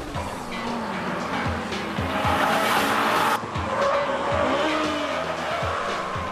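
A Honda Civic Type R races in a video game, its engine revving hard through the gears while tires squeal and skid, with a brief gearshift break midway and a steady, close, loud roar throughout.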